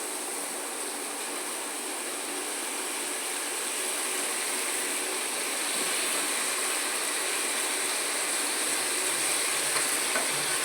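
About a kilo of raw chicken with ginger garlic paste fries in a pan for chicken curry, a steady close sizzle and hiss that holds evenly throughout without speech.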